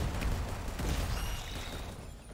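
Explosions and gunfire-like bursts in the video game ANVIL: Vault Breakers, a dense, loud, continuous barrage of booming blasts across the whole moment with no talking.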